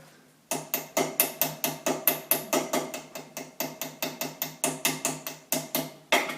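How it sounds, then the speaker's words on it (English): A small ball peen hammer taps rapidly and evenly on metal, dozens of close, ringing blows in a steady rhythm, peening a rivet on a straight razor. "take a ball peen hammer and mushroom out this end"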